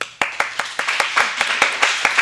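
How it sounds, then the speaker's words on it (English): One person claps hands in a steady, fairly quick rhythm, around a dozen sharp, close claps with no talk, as a host applauds on a live line dance show. "I'll clap for myself."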